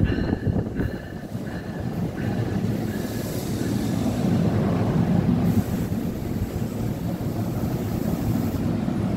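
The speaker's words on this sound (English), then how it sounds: "I'm jumping on this train here." Continuous rumbling and rattling of a moving train heard from onboard, with steady low noise and some wind buffeting throughout.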